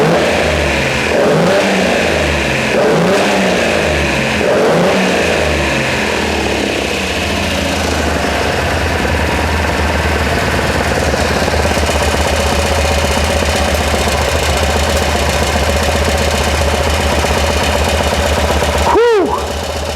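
A rebuilt Datsun L28 engine runs steadily at a loud, even level, with a few small rattles in its mechanical note. A brief sharp sweep sounds near the end.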